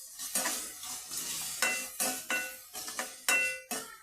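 A utensil scrapes and clinks repeatedly against a pan as small cut potato pieces are stirred. About eight distinct scraping strokes come close and fairly loud over a faint frying sizzle, with no talking.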